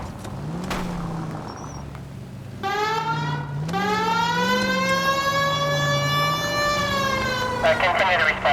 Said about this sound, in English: Please, Phelps, the siren.